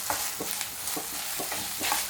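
A soy sauce, ketchup and pepper mixture is stirred in a hot pan, with soft rhythmic scraping strokes over a steady light sizzle.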